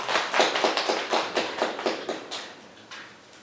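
An audience of people claps hands together in a warm burst of applause, many overlapping claps with a few accented beats, tapering off toward the end.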